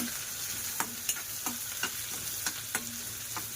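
Curry leaves and onion frying in a pan, a steady sizzle under repeated scraping strokes of a stirring spoon, roughly two or three per second, close and moderately loud.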